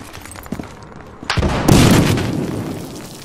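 A grenade goes off in a competitive first-person shooter match: a sharp burst followed by a loud, sustained rumbling blast that tails off slowly, with lighter clatter before it.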